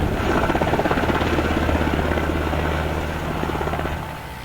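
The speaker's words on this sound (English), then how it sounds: "the two UH-60 Black Hawk helicopters brought in by the Alaska Army National Guard will assist in air mobility" Two UH-60 Black Hawk helicopters of the Alaska Army National Guard fly during a cold-weather exercise, their rotors thudding in a loud, steady drone that eases slightly toward the end.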